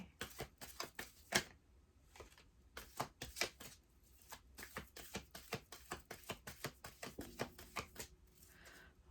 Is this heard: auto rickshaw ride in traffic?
no